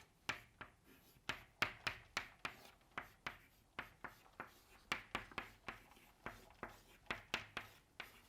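Handwriting an expression during a physics lecture on laser-matter interaction, likely chalk on a board, a quiet, steady series of sharp taps and short strokes in an even rhythm.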